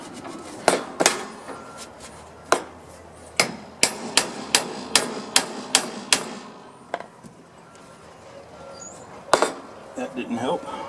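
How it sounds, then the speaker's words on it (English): A big hammer bangs on a stuck, rusted part of a John Deere 170 lawn tractor during restoration, loud sharp metallic strikes in quick irregular bursts, some rapid runs of blows, with pauses between and faint background noise. "Had to bang it back and forth with my big hammer down there."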